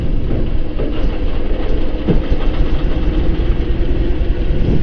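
BMW R18 motorcycle engine idling after starting, a loud, steady low rumble close by with an even throbbing pulse and no talk.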